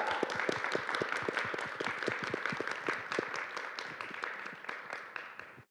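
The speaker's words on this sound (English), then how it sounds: "Can we clap it up for them real quick?" An audience claps for panelists at a food-security discussion, a brisk, even patter of many hands that carries at steady volume and fades slightly toward the end.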